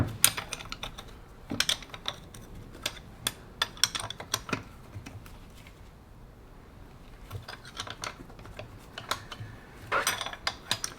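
Small metallic clicks and taps come from a wrench working bolts loose on a Ducati Desmosedici RR during a rebuild, irregular and close, in scattered bursts with quiet gaps between them.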